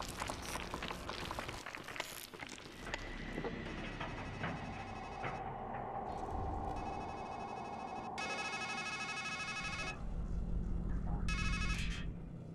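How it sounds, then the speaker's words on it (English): A telephone rings in repeated electronic bursts of bright trilling tones with short gaps between them, mixed with a rumbling background and some muffled voices. "Then a phone rings"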